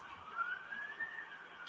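A faint, distant emergency siren wails steadily across London streets, with low background hum and no talk.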